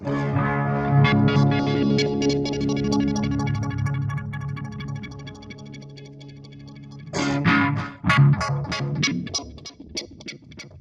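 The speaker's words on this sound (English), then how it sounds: "so any stereo effects you've got, you can get these huge sounds like this" Electric guitar played through a Two Notes guitar preamp with wide stereo effects, with sustained echoing chords for several seconds, then a brief pause and louder, choppier strums ringing out.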